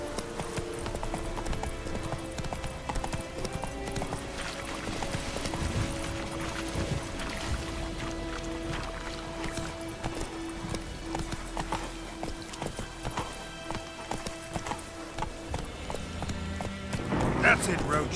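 Roach, Geralt's horse in The Witcher 3, gallops with steady rhythmic hoofbeats under game music, with a brief whinny and a voice speaking over the action.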